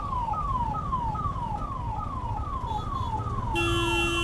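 An ambulance siren wails in repeating falling sweeps, about ten cycles, caught in slow traffic with steady road and engine rumble underneath; near the end a car horn or other electronic tone joins in.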